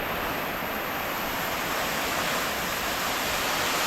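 Steady, dense rushing water roars continuously without pause, a powerful torrent from a mini waterfall in Kanthalloor filling the scene with no voices.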